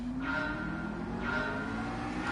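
Car engine revving in the Gran Turismo 7 racing game, played on a new steering wheel: a steady, rising engine tone that climbs in pitch twice across the short stretch, with no talking over it.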